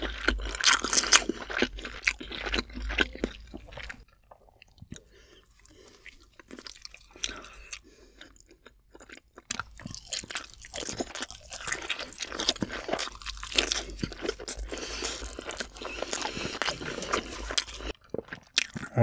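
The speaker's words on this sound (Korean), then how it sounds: "통스팸 아무것도 안 찍고 먹어볼게요." Close-up chewing of a whole block of canned Spam eaten plain, with wet crunches, bites and squishy mouth sounds in bursts around a quieter pause, no talking.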